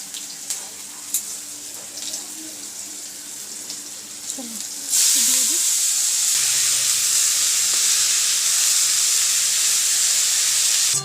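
Green chilli dropped into hot cooking oil in a home kitchen, where potatoes were being fried, bursts into a loud, steady sizzle that starts abruptly midway, with sharp crackles and spits after a quieter stretch with a brief voice.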